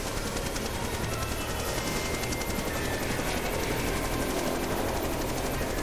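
A helicopter in flight in Jurassic Park: The Game, a loud, continuous rapid rotor chop with dense thumping that stays steady throughout.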